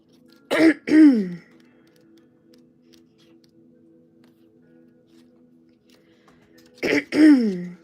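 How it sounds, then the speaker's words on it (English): Someone clears their throat twice, with a long quiet pause in between and a faint steady hum underneath. "If I could clear my throat, that would be lovely."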